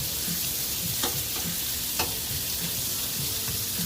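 Bacon sizzles steadily on a Blackstone griddle, a loud constant crackling hiss with a few sharp pops, alone without voices.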